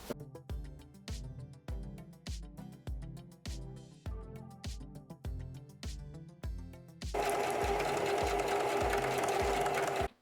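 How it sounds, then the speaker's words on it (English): A sewing machine stitches a coat lining for a wrap peacoat in short rhythmic bursts with brief pauses, then one longer, faster continuous run near the end, close and clear with no talking. "we're gonna sew the lining together"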